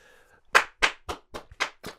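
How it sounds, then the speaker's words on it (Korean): Six sharp hand claps in a steady, slightly uneven rhythm, close and crisp, following a brief faint tone at the start. "박수는 쳐드릴게"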